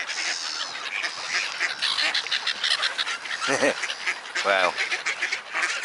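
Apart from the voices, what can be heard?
ducks quacking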